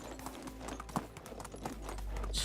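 Horse hooves clip-clop in the video game Medieval Dynasty, a steady rhythmic trot of moderately loud hoof strikes over soft ambient noise that rises toward the end.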